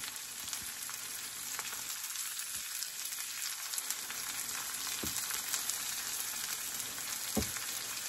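Corn with cayenne pepper fries in a pan for maque choux, a constant bright hiss that holds steady throughout, with a few faint clicks and knocks breaking through now and then.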